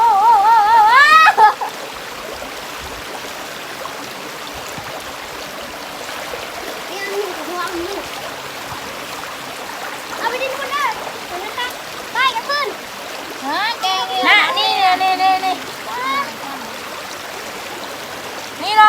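Water flowing in a stream runs as a steady wash through the scene, with splashy bursts and people talking and exclaiming over it at close range.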